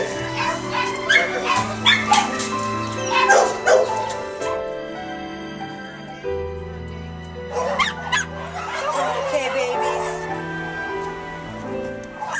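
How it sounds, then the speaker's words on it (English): Several dogs, mostly Chihuahuas and Chihuahua mixes, bark and yip in quick, close bursts and whimper in high, thin whines, with a short quieter gap between two noisy stretches. "Most of the dogs we ship are Chihuahuas and Chihuahua mixes."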